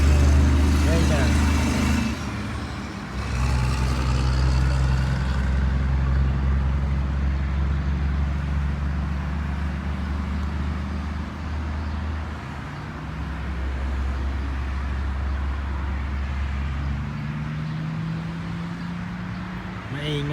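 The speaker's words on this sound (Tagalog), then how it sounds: "Maingay ang highway." Noisy highway traffic at night in Regina, Saskatchewan, with cars and trucks rumbling past in overlapping low swells, steady throughout while a person speaks over it.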